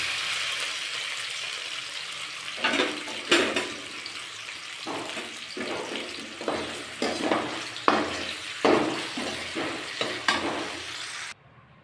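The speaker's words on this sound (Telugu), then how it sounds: "ఇప్పుడు రెండు టేబుల్ స్పూన్ ఆయిల్ తీసుకొని టమాటాలు వేయించుకోవాలి" Tomatoes frying in two tablespoons of oil for a black gram chutney, a steady sizzle broken by repeated louder stirring scrapes and bursts, close and alone.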